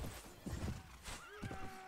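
Horses neigh during a battle in the Prophesy of Pendor game, a clear whinny rising over hoof clatter and battle noise, faint overall.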